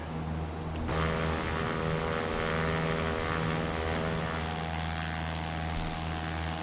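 Aircraft engine in the X-Plane 11 flight simulator over Southern California near Los Angeles, a steady droning propeller hum with strong tonal harmonics, shifting slightly as the view changes, loud and continuous with no speech.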